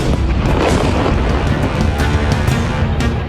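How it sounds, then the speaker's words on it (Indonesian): A loud, sustained rumbling blast filling the whole clip, heavy and dense like a large explosion heard fairly close, from an airstrike on a residential area. "Ledakan besar terjadi usai serangan udara dijatuhkan di permukiman warga."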